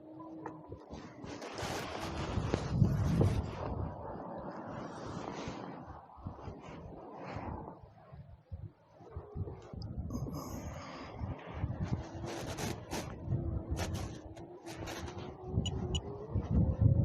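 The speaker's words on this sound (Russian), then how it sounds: "Навстречу ветру северному." A strong north wind buffets the microphone during a ride through a village, a rough rushing roar that gusts and surges irregularly throughout, loud and close, with brief fainter moments.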